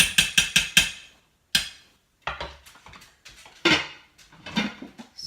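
A metal lid is set back on a cooking pot of Indian lentil soup: a rapid run of about five clanks, a lone knock, then several more rattling taps as it settles, fairly close and loud.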